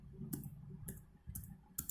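A phone touchscreen tapped by the right hand while typing, a few soft separate clicks spaced irregularly, close and quiet with no talking.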